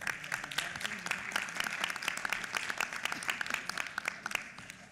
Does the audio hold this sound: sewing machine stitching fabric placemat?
no